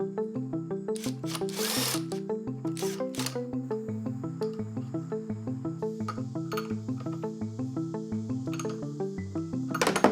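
Power tool whirring in rapid repeated pulses, its pitch stepping up and down, as it removes a reverse-thread nut from a gear on a chopper engine case; close and steady with occasional sharp clicks, no talk.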